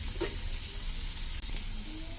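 Onions frying for biryani in a pan give off a dense, continuous hiss and sizzle, loud and close, with no voices.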